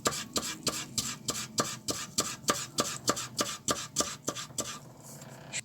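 Vegetables being finely shredded by hand for a gluten-free Carrick casserole, a steady rapid series of even rasping strokes, close and alone, slowing and trailing off at the end.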